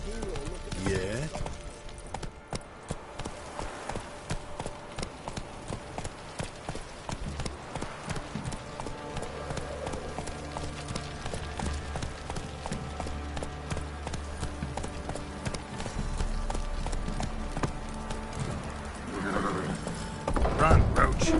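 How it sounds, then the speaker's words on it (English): Horse hooves galloping steadily in the Witcher 3 video game, a loud continuous clip-clop rhythm with occasional whinnies and game sounds, running through most of the stretch. "Run, Roach."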